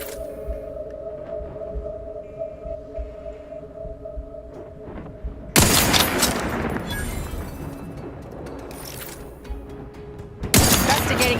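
Bursts of gunfire in The Outer Worlds 2, loud blasts that break abruptly over a droning game background, with a second burst near the end and speech mixed in.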